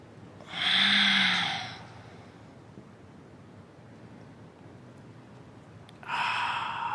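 A deep yoga inhale on a road trip, one long breath rising and fading over about a second, then quiet room tone and the start of another breath at the end.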